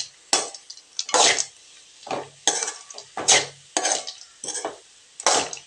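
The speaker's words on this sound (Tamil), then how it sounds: "இது இப்போ ஒரு பெரட்டி எடுத்துக்கலாங்க." Peanuts being stirred as they fry in oil, a spoon scraping and tossing them in repeated bursts of about one per second, close and loud with a crackling sizzle and no talk.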